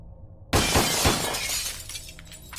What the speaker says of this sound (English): my window shatters